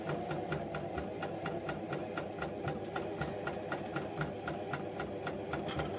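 A coverstitch machine sews fabric with a fast, even mechanical chatter of regular needle strokes, a close, continuous rhythmic hum and clatter with no voices.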